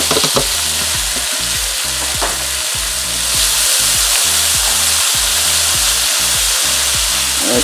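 Onions, green and red peppers and scallions sizzle loudly in a hot pan for a Jamaican brown stew, a dense close hiss over a regular low rhythmic thumping pulse, with no voices.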